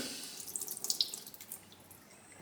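Water poured off soaked soup ingredients in a kitchen, a faint splashing trickle with scattered drips that builds in the middle and then thins out to a quiet wash, no talking.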